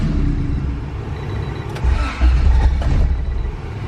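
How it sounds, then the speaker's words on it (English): A big-turbo non-VTEC Honda Civic EG hatchback engine idles low and rough at about 600 RPM, a loud, close, lumpy exhaust burble that surges briefly partway through, with no talk. "I do have to adjust the idle on this car because it does idle at like 600 RPM, and it doesn't want to start."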